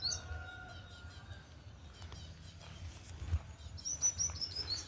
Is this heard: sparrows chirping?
yes